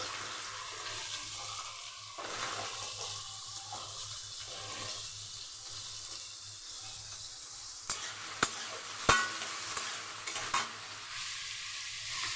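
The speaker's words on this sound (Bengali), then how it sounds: "পেঁয়াজটা খুব ভালো করে ভেজে নিতে হবে।" Onion fries and gets stirred in a pan over high flame, a constant sizzle with scraping strokes and a few sharp knocks of the utensil against the pan.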